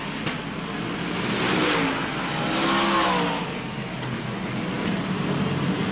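Race cars roar past at a dirt speedway in Wagga Wagga, their engines swelling and fading in two loud Doppler passes over a steady wash of track and crowd noise, with no talk.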